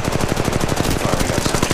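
Rapid automatic gunfire from the mobile shooter Apex Legends Mobile rattles in a fast, steady stream of loud close shots lasting the whole moment, with no talking.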